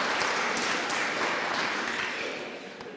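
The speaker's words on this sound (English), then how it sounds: "Give yourselves a round of applause." Audience at a Woodland Trust open meeting talk giving themselves a round of applause, a short burst of dense clapping that stays loud and then begins to fade near the end.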